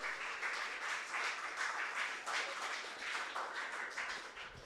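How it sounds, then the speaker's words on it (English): Audience clapping at a community event in the renovated Orange Mound Branch Library: moderate clapping in uneven bursts from a modest crowd, fairly close and rising and falling in intensity. "So go ahead and clap it up for this renovated effort."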